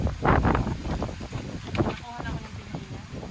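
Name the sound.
strong wind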